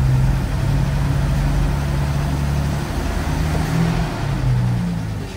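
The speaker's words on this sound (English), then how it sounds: "Tries to move when you rev her up. Hear some of that rough running." A car's engine revs with rough running while the vehicle strains to move, a loud, close, uneven low rumble that swells and eases with the throttle, with no talking.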